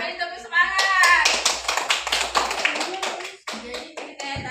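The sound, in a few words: group applause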